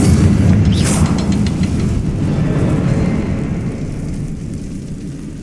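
Confringo fire spell explosion in Hogwarts Legacy, a deep loud boom with a rumbling tail that slowly fades over several seconds, heard alone without speech.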